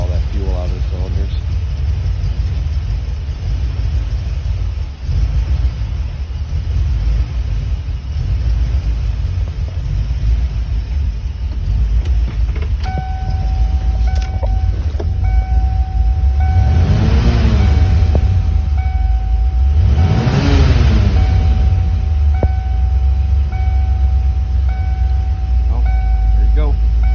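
A Ford Mustang Fox body engine cranks over to pump fuel out of the cylinders: a steady low rumble throughout, with two louder surging bursts near the end and a thin whine, under faint talk.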